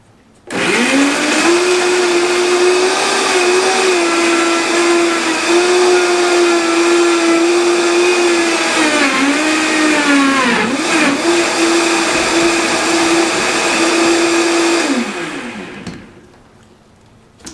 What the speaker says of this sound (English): with your blender is start it on low, turn it on, and then move it to high